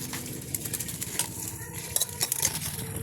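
Puffed rice tossed with chutney and salt for bhel, a dry rustling, crackling stir with light scraping clinks, continuous and close.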